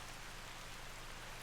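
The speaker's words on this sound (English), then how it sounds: "What is with this rain today?" Steady rain falls throughout, an even wash of hiss and patter close by with no voices, on a fishing outing.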